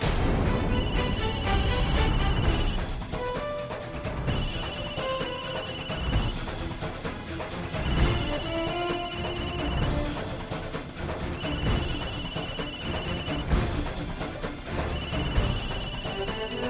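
A telephone rings repeatedly in bursts of about two seconds with short pauses between them, sitting over a dramatic music score in a Bhojpuri TV drama scene.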